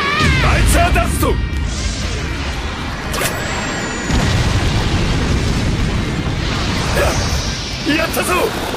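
A bomb explosion from Killer Queen's Bites the Dust attack in the fighting game JoJo's Bizarre Adventure: All-Star Battle, loud rumbling blasts and crashes layered with whooshing effects, under dramatic character voices.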